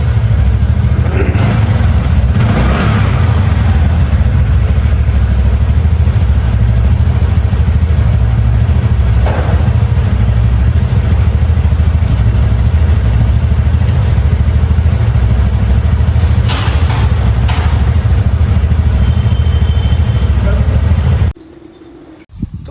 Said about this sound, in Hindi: जैसे अभी जो आवाज़ है, आरपीएम इसका भी हाई है, तो यानी कि ऑटो चोक इसका जो है प्रॉपर तरीके से काम कर रहा है।